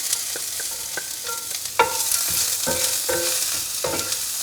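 Onion sizzling in a cast iron skillet during a breakfast skillet cook, a steady hiss with repeated sharp scrapes and clatters of a utensil stirring, close and fairly loud.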